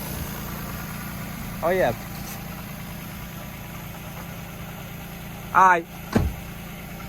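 Lexus GS300 and SC300 engines idle side by side with a steady, even low hum. Brief voices speak over it.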